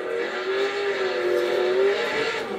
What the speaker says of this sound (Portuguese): vamos ver se ele faz o zerinho, né? Como se fosse um carro real.